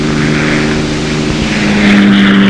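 A single-engine P-51 Mustang propeller fighter drones loudly and steadily, its engine hum holding a constant tone and swelling slightly toward the end.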